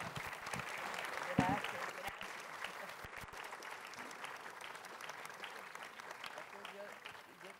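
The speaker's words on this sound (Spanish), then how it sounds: "un aplauso" An audience at a book festival tribute event applauds, a sustained wash of clapping heard fairly faint and distant, with a few sharper claps and some murmuring through it.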